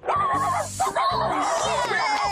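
A cartoon dog in a Bob the Builder episode vocalizes with short yips and whimpering, bark-like calls in quick bursts, close and fairly loud.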